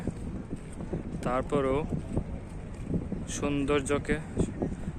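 Gusty, cool wind buffets the microphone in a low rumble throughout, while a person speaks briefly over it, in Qatar.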